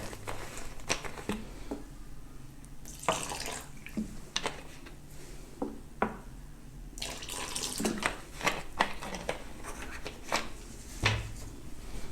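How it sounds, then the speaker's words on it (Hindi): Water poured from a tap into gram flour batter for restaurant-style fried fish, a steady splashing trickle with soft patter and occasional clinks, close and moderately quiet. "थोड़ा सा पानी और ऐड करेंगे।"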